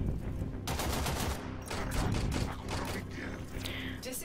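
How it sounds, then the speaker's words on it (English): The MK1 Braton rifle firing continuously in Warframe, a loud, dense stream of rapid automatic shots with mechanical clatter, steady throughout amid busy game-battle noise. "I'm shooting with my unranked MK1 Branton"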